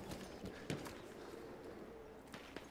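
Horse hooves clip-clop faintly in a video game, a few scattered steps over a low, steady background.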